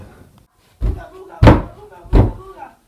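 A door is slammed shut three times in quick succession, each a loud, heavy, booming thud close by, with a brief quiet gap between them.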